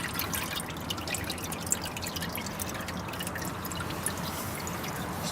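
Engine oil pours and drips steadily from the opening left by a removed oil filter, a continuous close liquid splatter with small irregular drips throughout and no talking.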